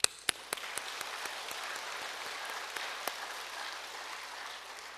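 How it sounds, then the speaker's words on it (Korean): A church congregation applauds to give glory to God, a soft, even rush of many hands clapping, with a few louder nearby claps at the start, fairly faint and steady throughout. "하나님 앞에 영광에 박수 한번 드립시다"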